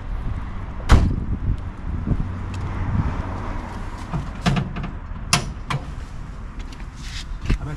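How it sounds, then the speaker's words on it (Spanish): The bonnet of a classic Volkswagen Golf opened by hand: a sharp metallic clunk of the latch, then more creaks and a second solid knock a few seconds later, set against low outdoor rumble. "¿Puedo abrir el capó?"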